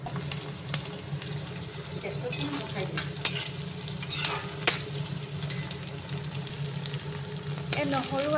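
Onions, garlic and ginger fry in mustard oil in an iron wok, a constant close sizzle with scraping stirs and occasional sharp clanks of a spatula against the metal.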